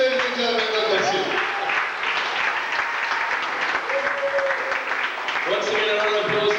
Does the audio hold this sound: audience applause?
yes